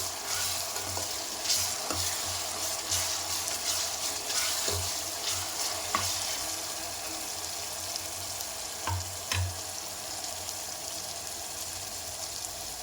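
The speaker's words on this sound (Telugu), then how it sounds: "అల్లం వెల్లుల్లి పేస్ట్ వేసుకొని పచ్చి వాసన పోయే వరకు ఫ్రై చేసుకోవాలండి" Ginger garlic paste frying in a pan, a steady close sizzle with scattered clinks and scrapes of a spoon stirring, for goat leg paya soup; no talking.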